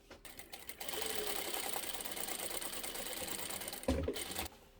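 A sewing machine runs steadily, stitching a small fabric bag's lining closed, its motor buzzing continuously for about three seconds before a brief louder clunk and a stop.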